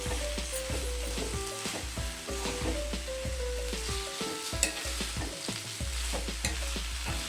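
Chapati mixture stirred in a pan over a low flame, a steady scraping of the spoon against the pan over a soft, continuous sizzle, close and fairly loud, with no talking.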